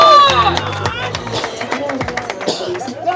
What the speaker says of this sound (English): I hear the Devin Dainbridge cheering committee over here in the back.